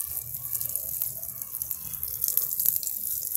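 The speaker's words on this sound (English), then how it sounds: "Now I am giving it water." Water poured onto the soil of a potted sweet lime (mosambi) plant makes a steady, close, soft splashing and trickling hiss with faint drips throughout, and no one speaks.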